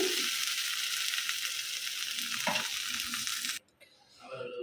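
Okra (bhindi) frying in a pan, a steady loud sizzle with occasional stirring scrapes, then the sizzle suddenly drops away and returns faintly.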